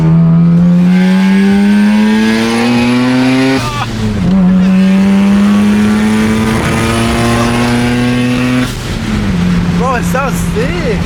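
A right-hand-drive JDM car's engine revs loudly and close, climbing in pitch through two long pulls before dropping back, with people talking over it.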